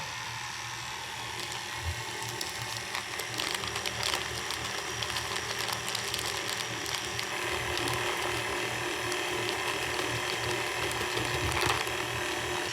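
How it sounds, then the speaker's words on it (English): A kitchen mixer runs at slow speed, mixing powdered sugar for royal icing. It gives a steady, close mechanical whir with faint ticking and grinding, and no one speaks. "Slow speed of your mixer."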